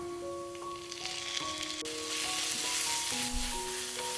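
Green paste going into a pan of frying carrots and beans, a soft sizzle swelling after the addition, with a faint droning hum in the background and no speech.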